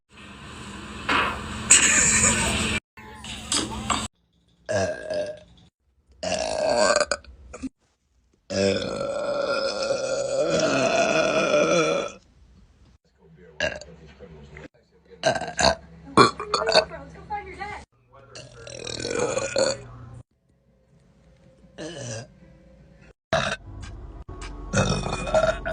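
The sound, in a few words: burping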